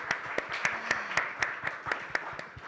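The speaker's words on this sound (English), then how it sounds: "So huge round of applause to each one of you in the room." Applause from an audience at an indoor campaign launch event, a steady patter of clapping with sharp individual claps standing out, moderately loud and sustained for a few seconds.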